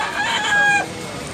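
A fighting cock offered for sale at Tabunok, Cebu crows once, close and loud, a short hoarse call held briefly before breaking off.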